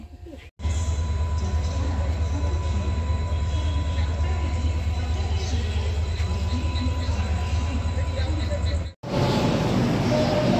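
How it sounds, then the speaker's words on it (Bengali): A train pulls out of a station with a loud, steady rolling rumble and clatter close by, holding constant between two abrupt cuts. "ট্রেন ছাড়লো 9:32"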